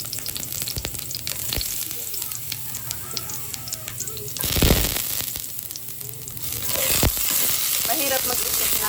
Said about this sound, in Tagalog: ilalagay na natin yung ating bawang